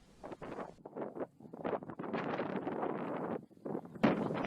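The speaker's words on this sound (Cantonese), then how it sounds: "呢度好大風，個風呼呼聲" Strong gusts buffet the microphone on an island hilltop near a lighthouse at Po Toi, coming in loud irregular rushes with brief lulls between them, no talking.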